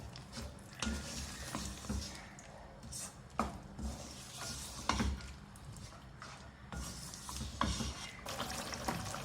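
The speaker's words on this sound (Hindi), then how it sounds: "भूनेंगे इसको।" Mutton with garlic-ginger paste being fried bhuna-style in a pan, a constant close sizzle broken by repeated stirring scrapes and clatters.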